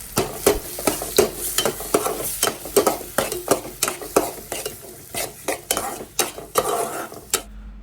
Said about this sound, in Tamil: கிண்டி விட்டுட்டு ஒரு முட்டையை ஊற்றிக்கோங்க.